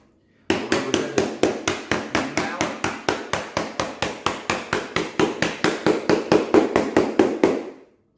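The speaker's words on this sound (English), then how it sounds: "Tap it down so that it locks in and it will not go anywhere." Vinyl T molding being tapped into place with the rubber handle of a hammer: a steady run of about thirty evenly spaced, close, sharp knocks, alone and fairly loud.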